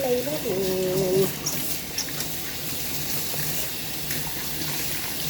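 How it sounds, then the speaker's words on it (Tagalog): Tap water runs steadily into a sink while vegetables are washed under it, a continuous close gush with someone speaking briefly at the start. "Yung first is siyempre, hugasan muna natin yung mga gulay natin."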